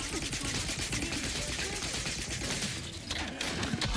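Rapid bursts of gunfire in the video game The Outer Worlds 2 rattle continuously and loudly through the whole stretch, a dense crackling fusillade.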